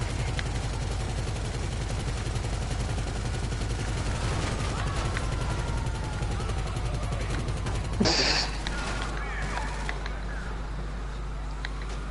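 Rapid, relentless gunfire rattles in GTA 5 Online as a long unbroken volley of shots pounds under a person talking throughout, with a sharper louder blast standing out near the end.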